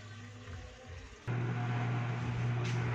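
A washing machine fills with water for its second rinse, a steady rushing inflow that starts quietly and then jumps louder partway through, with a low hum underneath.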